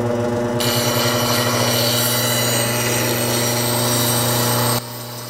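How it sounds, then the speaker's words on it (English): A bench grinder used to sharpen a woodturning spindle tool drones steadily with a strong low hum and a broad grinding hiss, loud and close, before the grinding stops near the end and the motor keeps humming as it slows. "It takes a while for that grinder to slow down."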